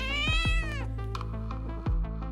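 A cat meows several times in quick succession, close and fairly loud, the calls rising and falling with a slightly strained tone over a low steady background hum.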